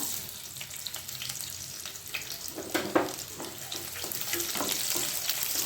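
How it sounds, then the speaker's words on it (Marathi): Onion with whole spices frying in hot oil until golden brown, a soft continuous sizzle with occasional stirring clatter, fairly quiet and close. "कांदा थोडा हलका गोल्डन ब्राउन पर्यंत तळून घ्यायचा आहे"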